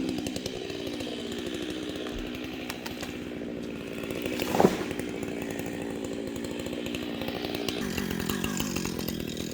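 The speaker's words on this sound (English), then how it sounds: "it's kind of sad cutting down these big old native trees" A chainsaw cuts down big old native trees on raw land being cleared, its engine running steadily close by with a sharp burst midway as the bar bites through the wood.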